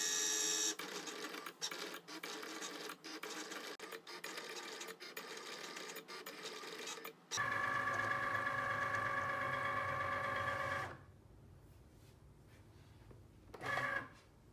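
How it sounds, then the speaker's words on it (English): A vinyl cutting machine cuts a diamond plate tumbler design, a steady mechanical whir with rhythmic clicking carriage strokes, then a shift to a higher buzzing hum before stopping, with a short burst at the end. "The machine's cut my design."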